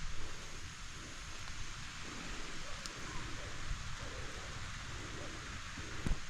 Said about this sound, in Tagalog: lakas na ulit ng ulan